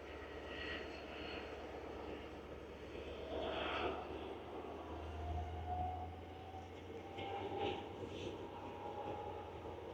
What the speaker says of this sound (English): Some serious engines in them, and you can hear it.